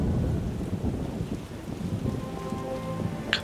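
Rain falling with rolling low thunder in the video game The Witcher (2007), a dense steady patter over deep rumbling, with a faint tonal sound and a brief sharp tick near the end.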